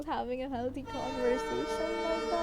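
A train horn sounds outside, a steady sustained blare rising under a person talking and continuing behind the speech to the end.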